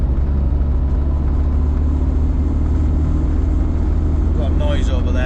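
Land Rover Discovery 1 cruising in fourth gear at about 40 mph, a steady low engine and road rumble with a droning hum, joined near the end by a brief voice.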